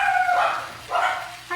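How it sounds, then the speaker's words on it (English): Indoor dogs barking in a home kitchen, two or three loud yapping barks in quick succession, close by. "before them dogs start getting loud"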